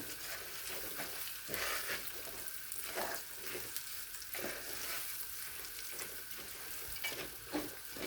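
Rice for pilaf is stirred and toasted in a hot pan, giving a soft continuous sizzle broken by repeated scraping strokes of the spoon, fairly quiet and close, with no talk.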